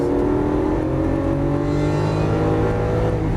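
A Lamborghini Aventador LP700-4 V12 engine accelerates hard out of a corner on a track in Las Vegas, a loud, steady, close roar that sustains throughout.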